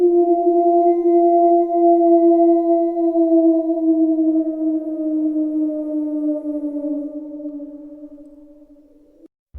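A wolf gives one long, loud howl in the open. The tone holds steady, then slowly sinks in pitch over about nine seconds, with no other sounds around it.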